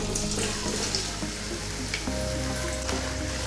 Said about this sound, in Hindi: घी अच्छी तरह से गर्म हो चुका है और अब मैं इसमें शामिल करूँगा एक छोटी प्याली प्याज की